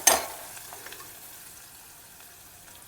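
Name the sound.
onions frying in oil while being stirred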